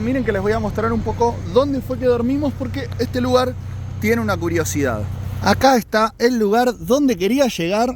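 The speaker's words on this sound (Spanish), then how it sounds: "Perdonen el ruido, ese es el camión que está haciendo tanto ruido." A low, steady engine rumble from a nearby truck runs beneath continuous talking in Spanish, dropping away near the end as the speech carries on.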